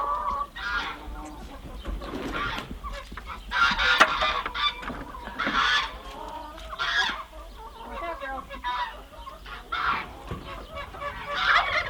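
Farm fowl calling near the microphone, geese honking loudly in repeated bursts amid clucking chickens and turkeys, with no talking.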